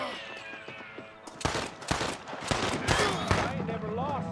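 Sniper gunfire in the video game Red Dead Redemption: a rapid volley of loud, sharp shots bursts out after a quieter start, several cracks in quick succession, with voices and game sounds around them.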